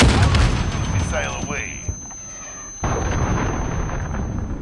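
A missile launch and explosion in Modern Warfare: a loud crackling blast and whooshing burst, a brief lull, then a renewed roar of rumbling noise. Game radio chatter and voices sound throughout.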